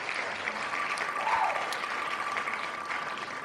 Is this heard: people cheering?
yes